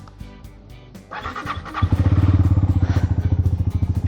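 A Honda CL250 motorcycle engine starts: a brief starter whirr gives way to a loud, close idle with a steady, rapid pulsing beat.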